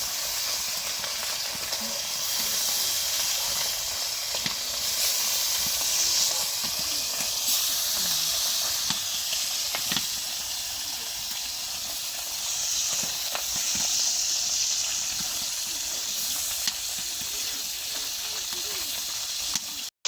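Tengra fish frying in hot oil for a raw-mango curry, a dense steady sizzle and hiss with scattered pops and crackles, close and continuous throughout.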